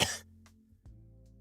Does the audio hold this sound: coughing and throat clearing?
yes